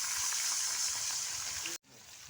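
Onions frying in oil in a wok hiss with a loud, steady sizzle after a splash of water, then cut off abruptly near the end before resuming more quietly.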